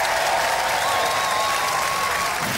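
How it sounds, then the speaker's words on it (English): Studio audience applause for a robot combat team on a televised robot fighting competition, continuous loud clapping filling the whole short stretch. "Let's have a round of applause for Suicidal Tendencies."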